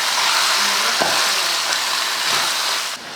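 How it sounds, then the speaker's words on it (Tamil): Chicken seasoned with salt and turmeric sautés in a hot pan, a steady broad sizzle with a few scrapes of stirring, close and continuous, easing off slightly at the end. "இதை நல்லா வதக்கி விட்டுருவோம்."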